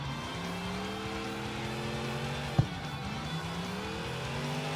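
A Chevelle V8 is driven down a mountain road in CarX Street, its engine holding a steady, droning tone in one gear. Midway there is a single sharp knock, after which the revs dip and then climb again.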